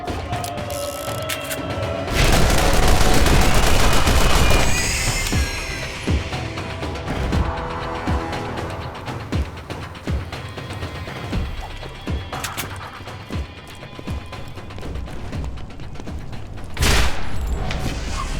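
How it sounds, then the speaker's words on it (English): Burst-fire weapons such as two-shot repeaters and machine pistols firing in a sci-fi shooter video game, a loud dense fusillade of overlapping shots and crashing impacts, heaviest early and continuing in busy clusters throughout. "I'm supposed to be using burst fire weapons. I like two-shooter repeaters and machine pistols."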